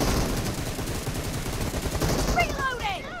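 PUBG Mobile gunfire rattles in rapid, close automatic bursts, with a chirpy in-game effect near the end and a voice murmuring underneath.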